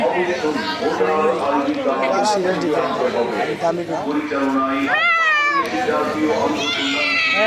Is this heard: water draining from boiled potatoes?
no